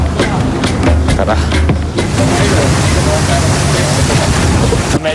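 Strong sea waves slap against a boat during a crossing to Sibuyan Island, a loud, continuous wash of water and wind roar with engine rumble underneath. A voice can be heard faintly beneath the noise.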